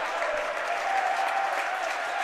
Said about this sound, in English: can hear the students cheering him on